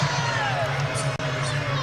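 Basketball arena crowd at a women's college game between Clemson and Virginia Tech, a loud sustained murmur of voices reacting with displeasure, with whistle-like tones and a commentator's voice mixed in.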